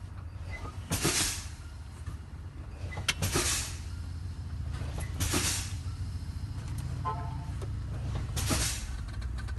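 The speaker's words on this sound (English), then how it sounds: "The action, I'll start fanning my brakes. Start fanning your brakes until they activate." Truck air brakes being repeatedly fanned during an in-cab brake inspection, with sharp bursts of air released about every two seconds over a steady idling engine rumble, close and fairly loud.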